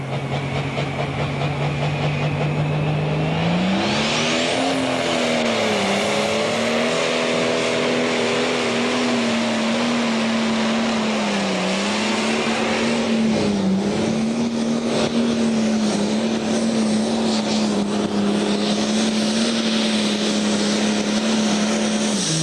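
A 10,000-pound single-turbocharger Pro Stock pulling tractor roars steadily down the track at Route 66 Raceway in Joliet, its loud continuous engine note rising in pitch early on, then holding a sustained drone throughout with no talk.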